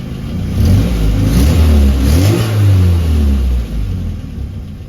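A classic Mini engine, freshly self-tuned after a year, revs up close in several rising and falling surges over a low rumbling idle, loud and without talk.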